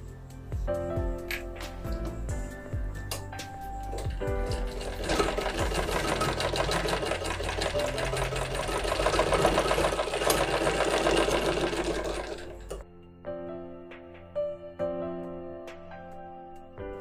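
A sewing machine stitches a fabric strip at a half-inch seam, running loud and steady for about eight seconds with mechanical hum and clatter, then stopping amid softer handling clicks.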